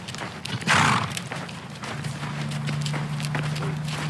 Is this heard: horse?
yes